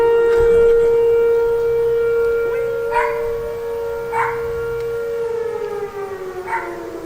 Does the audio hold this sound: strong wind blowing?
no